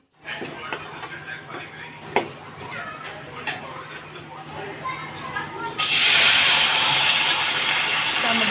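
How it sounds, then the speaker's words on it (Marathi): A few faint clicks and crackles give way to a loud, steady sizzle as chili powder tempering hits hot oil in a pan, hissing continuously to the end. "व्यवस्थित फोडणी करून घ्यायची आहे याची"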